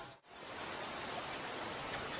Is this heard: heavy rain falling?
yes